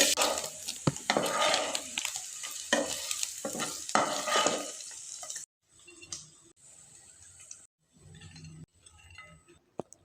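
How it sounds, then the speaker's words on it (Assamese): Homemade paneer frying in a little ghee in a pan, a bright crackling sizzle with stirring scrapes up close, then quieter intermittent stirring and clinks after a cut. "পেনখনত ঘি অকণমান দি পনীৰখিনি ফ্ৰাই কৰি ল'লোঁ।"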